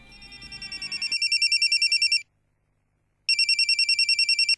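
A telephone rings in two loud bursts of rapid trilling electronic pulses, the first building up out of music and the second following a pause of about a second.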